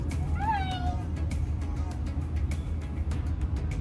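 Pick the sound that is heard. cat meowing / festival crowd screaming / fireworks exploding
cat meowing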